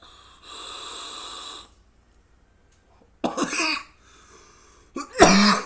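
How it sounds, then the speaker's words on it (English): A person coughs after vaping. A long breathy exhale comes first, then a pause, then two harsh, close bursts of coughing. "You know how long it's been since I've coughed from a vape?"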